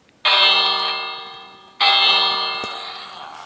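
Two ringing strikes of a bell from the Minecraft 1.11 video game, each a loud bright clang with a long shimmering decay, the second following about one and a half seconds after the first.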